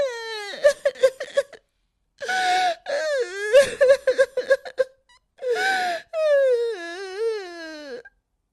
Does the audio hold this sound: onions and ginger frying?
no